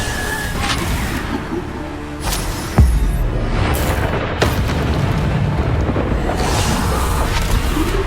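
A Bombarda spell explosion in the video game Hogwarts Legacy: a sharp booming blast lands partway through, followed by a sustained rumble among continuous dense combat noise and scattered smaller pops.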